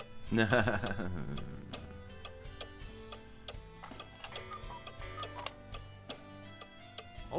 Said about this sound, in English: I hear a cuckoo clock, but I don't see one.